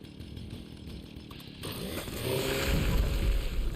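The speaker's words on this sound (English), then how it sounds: "I don't think he's going to fly with the chainsaw" A chainsaw in the video game Fallout revs up partway through, rising from quieter background noise into a loud, buzzing engine roar.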